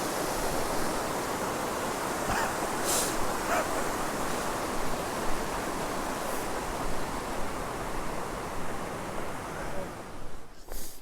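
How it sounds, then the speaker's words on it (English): Small waterfall on a hiking trail in Olympic National Park, a steady broadband rush of falling water heard close and continuous throughout, with a few faint brief sounds over it. "Oh, nice little waterfall there."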